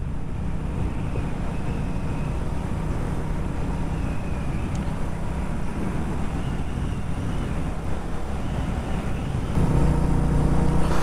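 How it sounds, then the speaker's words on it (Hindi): Royal Enfield Meteor 350 motorcycle on the move, a steady loud rumble of exhaust blended with heavy wind buffeting the microphone, continuous throughout and swelling slightly near the end, no talking. "शायद अभी आपको एग्जॉस्ट विंड नॉइज़ तो आ रहा होगा मुझे पता है"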